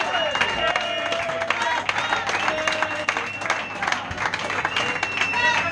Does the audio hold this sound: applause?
yes